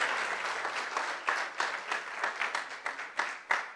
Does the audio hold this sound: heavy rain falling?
no